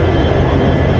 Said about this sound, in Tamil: டீசல் லோக்கோல தான் நம்மளுக்கு ரன் ஆக போகுது